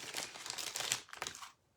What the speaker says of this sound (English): which I'll have to take out of the plastic bag